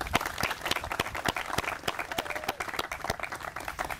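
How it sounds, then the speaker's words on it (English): A smaller crowd claps for Alderman Thomas at an outdoor park ribbon-cutting ceremony, the individual hand claps distinct and rhythmic, moderately close and fairly quiet. "Let's give him a round of applause."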